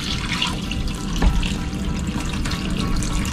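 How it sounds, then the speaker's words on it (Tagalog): Water poured into a pot of mushrooms, made with flour and water and cooked with banana peel; a steady, moderately loud pouring and sloshing continues throughout without speech. "pagkatapos natin ilagay ang tubig sa mushroom"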